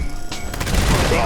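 A Gauss minigun fires in Fallout 76 as a loud, continuous burst of rapid shots that builds and holds to the end, with dense booming impacts throughout.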